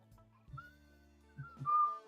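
A person whistles a short, faint melodic line, a few thin wavering tones that get louder toward the end, with a low hum underneath.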